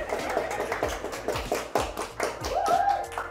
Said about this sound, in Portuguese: Palmas pra vocês, ó.